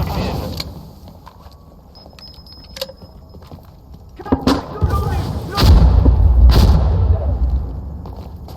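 Artillery fire support strike in the shooter game Insurgency Sandstorm, with several heavy booms and rumbling impacts building in the second half, mixed with game clatter and faint voices.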